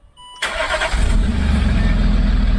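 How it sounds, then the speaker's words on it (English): Land Rover Discovery engine cranks after a quiet moment, catches and fires up into a loud, steady idle that settles into a throbbing rhythm, heard up close with no talk. "Okay, I'm gonna start it one more time."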